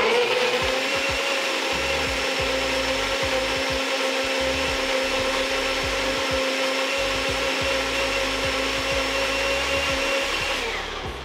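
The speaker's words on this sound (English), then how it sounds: "And we're going to go blend this up." A blender whirs a green breakfast smoothie of banana, fruit and nut butter in a loud, steady, close whine that runs unbroken for about eleven seconds before winding down at the end.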